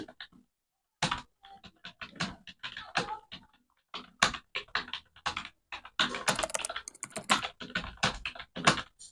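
Typing on a computer keyboard in typing-test software, with bursts of crisp close key clicks broken by short pauses and getting denser and faster toward the end.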